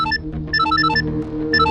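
Telephone ringback tone on an outgoing call, a repeating electronic melodic trill in regular bursts, clear and steady with no voices.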